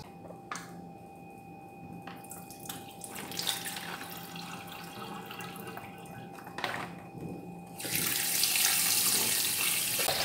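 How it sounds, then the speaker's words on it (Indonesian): Shirataki noodles rinsed under a running kitchen tap, steady water flow splashing into a sink with small drips and squishes, the stream growing louder and fuller near the end. "Tadi kan di kemasannya ada airnya kan, jadi rada bau sampai bersih ya nyucinya"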